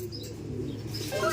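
Racing pigeon arriving at its loft during a derby race, with soft cooing and a brief flutter of wings, close by and alone.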